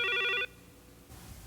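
A telephone rings once in a domestic setting, a loud electronic trilling burst that stops abruptly, followed by quiet room tone and a faint rustle.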